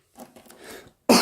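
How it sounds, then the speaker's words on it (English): A few soft, muffled coughs followed by one sharp, louder cough close by. "Apologies for the coughing,"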